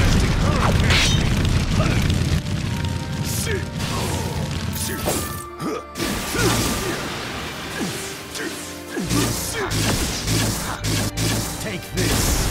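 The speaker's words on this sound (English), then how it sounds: "Fire style of majestic hurricane." Fire Style Majestic Hurricane attack in a Naruto fighting game, used by Madara against Hashirama: loud, continuous roaring blasts with heavy booms and crashes throughout, plus a couple of brief near-silent gaps.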